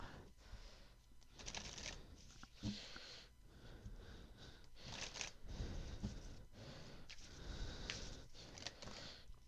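Tarot cards being shuffled in repeated rustling riffles, close and fairly soft, with short pauses between bursts.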